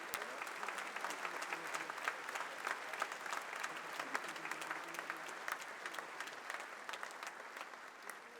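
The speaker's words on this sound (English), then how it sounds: "Let us show our appreciation once again by extending another round of applause to President Susilo Bambang Yudhoyono." A formal summit audience gives sustained, even applause, dense and steady at moderate distance for several seconds.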